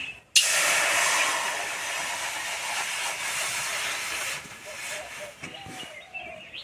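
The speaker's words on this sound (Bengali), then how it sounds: "এবার কড়াইয়ে দেবো জল" Water hits a hot wok with a sudden loud steaming hiss that holds strong, then gradually fades and sputters into quieter bubbling.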